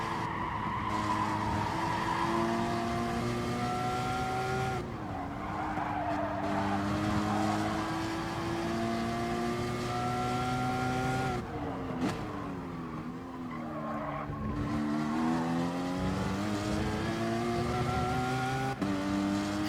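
A Porsche Cayman Gr.4 racing at Laguna Seca in Gran Turismo Sport, its engine droning steadily and rising and falling through gear shifts, with tire squeal throughout, loud and continuous.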